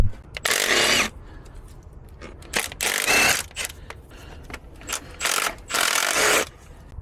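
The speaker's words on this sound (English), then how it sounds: "We'll undo these now and get the 4 bolts out for the ECU." Power tool undoing the ECU retaining bolts on a DAF truck engine, loud whirring bursts of about a second each, five runs separated by short pauses and small clinks in a workshop.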